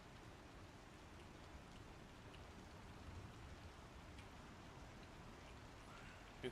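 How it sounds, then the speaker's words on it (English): Steady rain falls in the Star Citizen video game as a soft, even wash of patter with no voices, continuous and faint throughout. "God, I wish it'd stop fucking raining."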